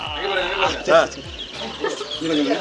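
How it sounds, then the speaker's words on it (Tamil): Colored chicken chicks cluck and chirp in short bursts close by, with a brief louder squawk near the middle and a soft background hum, at a bird park in Tamil Nadu. "இது நம்ம ரெகுலராக பார்க்குற நம்ம கலர் கோழி குஞ்சு."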